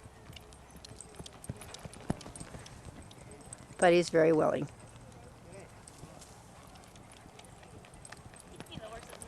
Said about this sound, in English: All right, here we go to canter. He's still fast on the lunge at canter.